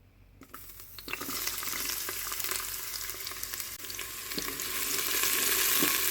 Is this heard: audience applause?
no